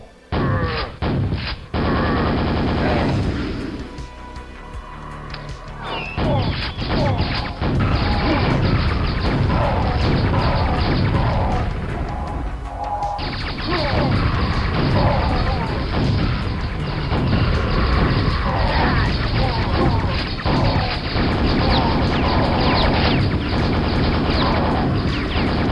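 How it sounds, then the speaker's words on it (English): In the game Quake, a rocket launcher fires repeatedly and dense, loud explosions roar almost without pause, with booming blasts and crashing impacts filling the space and only a brief quieter lull early on. "Rocket launcher."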